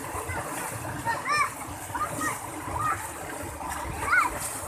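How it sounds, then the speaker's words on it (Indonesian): Children splash and play in an irrigation channel while fishing for wader fish, with steady water sloshing and bursts of splashing close by, as children's voices and chatter carry over the water throughout. "anak-anaknya malah nyebur tuh teman-teman"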